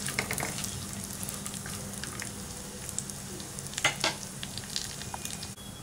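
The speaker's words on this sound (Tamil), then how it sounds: "இப்போ நட்ஸ் வந்து இதில் போட்டுக்கலாம். ஒரு ஃபியூ செகண்ட்ஸ் வந்து நீங்கள் வறுத்துக்கலாம்." Nuts roasting in hot ghee in a pan for dates burfi, a soft continuous sizzle with occasional light stirring clicks and scrapes, fairly quiet and without talk.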